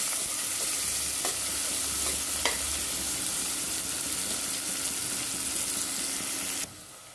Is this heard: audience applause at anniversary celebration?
no